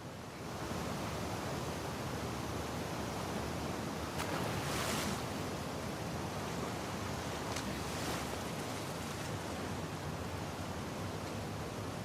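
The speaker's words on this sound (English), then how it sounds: "it remained in essence in the section swimming to the aquarium as Ellie, when you were avoiding the waves" Continuous rushing water waves heard while swimming in the video game The Last of Us Part II, a dense steady wash of surf with a couple of brief splashy swells, loud and close, no voices.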